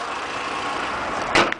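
A Volkswagen Caddy's 1.4-litre, 60 hp petrol engine idles with the bonnet closed, giving a steady, even hum that runs unbroken, then a brief sharper knock near the end.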